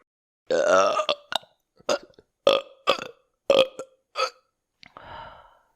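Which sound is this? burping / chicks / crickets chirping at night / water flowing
burping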